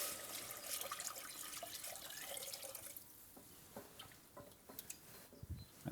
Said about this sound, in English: Now it's time to add our stock.